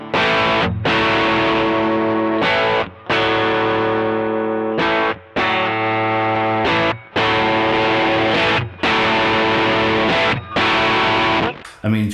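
An electric guitar plays through a TC Electronic Nova Drive distortion pedal. Loud, sustained distorted chords ring out in repeated strums with short gaps between them, and the gain shifts as the guitar volume changes.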